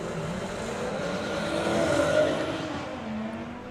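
An Audi and a Golf launch side by side at a drag racing event, a broad engine roar swelling then easing as the cars pull away, heard from a distance with crowd ambience.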